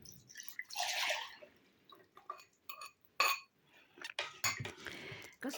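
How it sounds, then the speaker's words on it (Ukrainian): Sugar mixture poured from a bowl into a saucepan in a home kitchen while making coconut-filled shortbread cookies, heard as splashy pouring bursts followed by several scattered clinks and taps of utensils and dishes, close by with no talking. "І цю всю масу тепер переливаю в кастрюльку"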